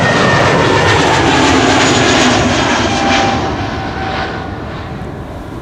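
A British Airways jet departs Amsterdam Schiphol Airport with a loud, close engine roar and whine that holds strong, then gradually fades as it moves away, alone without voices.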